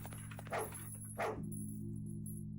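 A dog in the video game Chinese Fear & Hunger gives two short barks about half a second apart over a steady low hum and a high-pitched tone.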